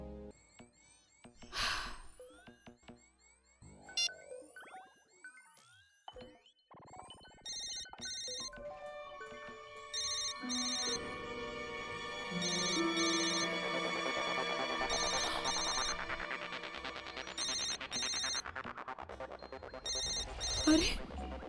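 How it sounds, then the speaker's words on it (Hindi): A mobile phone rings with a repeating electronic ringtone of bright, patterned bursts that grow louder and denser over about twenty seconds, with scattered background noises. "अमित का फोन तो यहीं कहीं बज रहा है।"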